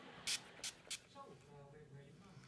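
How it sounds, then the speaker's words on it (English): Makeup setting spray misted onto a face, three quick close hissing bursts in a row, followed by soft talking. "spray it all over, and this will set your makeup"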